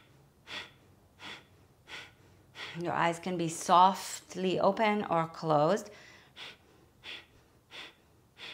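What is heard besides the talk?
yogic breathing with a tone at the back of the throat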